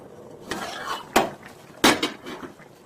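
A spoon stirring korameenu (murrel fish) curry in a pot, giving several sharp clanks and scrapes against the metal at irregular intervals, close by.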